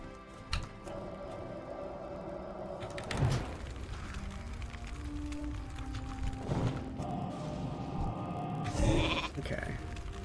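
A sheep bleat from a Polymorph spell in World of Warcraft sounds over a steady game background, with a few short bursts and mechanical clicks around it.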